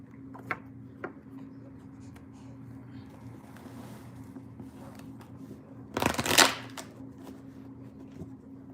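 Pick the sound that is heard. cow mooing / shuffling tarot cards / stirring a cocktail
shuffling tarot cards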